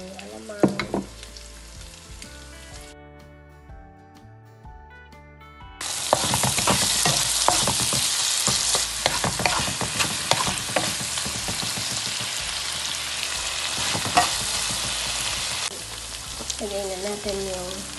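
Laing with shrimp paste frying and being stirred in a pan, a loud steady sizzle with stirring scrapes that swells after a quieter start with music, continuing strongly to the end.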